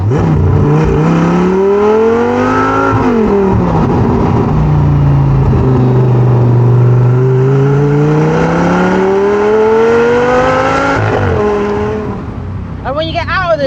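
An Audi R8 GT Spyder with a V10 engine accelerates hard through bends, its loud engine note rising and falling steadily with gear changes, close and continuous, under someone talking.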